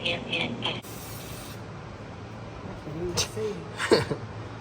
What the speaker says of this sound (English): I'm just spraying in the general direction that I think